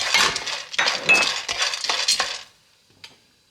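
Chopped walnuts or mixed nuts are stir-roasted in a pan, giving close, bright scraping and clinking bursts from a utensil stirring them around, several quick strokes that then fall quiet with one last small tap.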